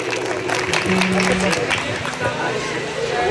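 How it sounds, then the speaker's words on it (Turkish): A crowd claps for the winning villagers, a continuous wash of applause mixed with cheering voices and chatter from start to finish. "onlara bir kocaman bir alkış gönderelim diyorum"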